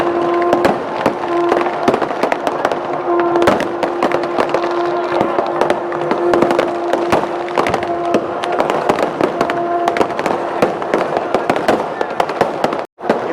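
Firecrackers crackle and burst without pause during the Karthigai Deepam festival night at Tiruvannamalai, a dense, loud barrage of overlapping pops with a steady hum beneath, ending in a brief cut.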